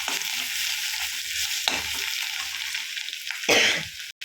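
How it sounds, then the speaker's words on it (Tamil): Ginger and garlic frying in a pan give off a constant close sizzle, with brief louder bursts of hissing and a spatula scraping and stirring now and then. "இதை நல்லா பொரிச்சிருங்க இதுவே கொஞ்சம் கலர் சேஞ்ச் ஆகிடுச்சு போதும்"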